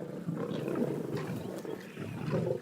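Low, rumbling lion growls and roars come from close by, rough and continuous for a few seconds with no talking.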